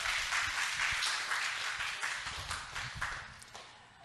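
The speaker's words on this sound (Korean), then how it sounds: "우리 박수로 우리 모시겠습니다." An audience of young adults at a church summer Bible school forum applauds to welcome a speaker, with loose, scattered hand claps that stay fairly steady and then thin out toward the end.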